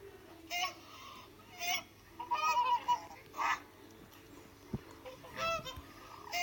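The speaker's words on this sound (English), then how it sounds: "Here comes a swan sound." A swan call played back through an Alexa smart speaker comes as several short honking bursts with gaps between them, fairly loud in a quiet indoor room, with no talk over it.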